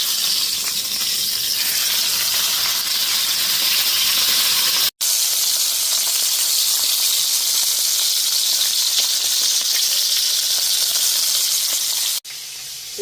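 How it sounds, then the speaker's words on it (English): Steak searing in a hot pan, a loud, continuous close-up sizzle and hiss with brief breaks, no voices. "We're going to sear both sides."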